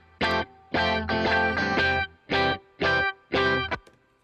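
Distorted electric guitar tone run through a REDD console emulation and amp in Logic Pro, six loud chord strums in a halting rhythm, each ringing briefly before cutting off, with no other sound.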